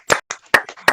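Several sharp hand claps ring out in a church service, about four close loud slaps at uneven spacing over one second, with no cheering or voices evident.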